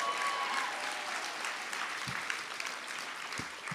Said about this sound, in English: All right, give a round of applause to Jason